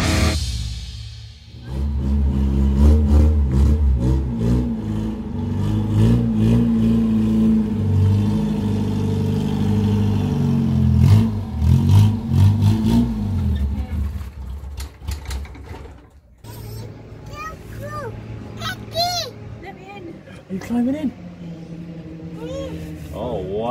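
A Toyota KE70 Corolla engine runs and revs as the car moves, rising and falling through harsh, uneven bursts before dropping away, with people talking and calling out over it.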